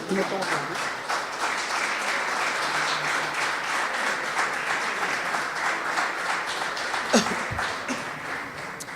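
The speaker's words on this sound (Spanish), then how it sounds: "Dele un aplauso al Señor, hermano." A church congregation applauds during a sermon, steady dense clapping filling the whole stretch at close range, with voices and shouts mixed into the crowd noise.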